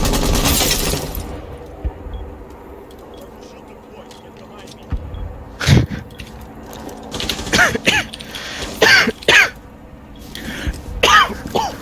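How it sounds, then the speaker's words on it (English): Harsh coughs come in several bursts, some close together and some spaced apart, mixed with throat clearing over faint clicks and game sounds, with a voice speaking in between. "Sorry, I'm coughing."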